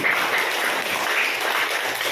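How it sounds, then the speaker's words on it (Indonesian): Students in a classroom during an Islamic history lesson clap together in a brief, steady burst of applause at an even level throughout. "Tepuk tangan buat Opi."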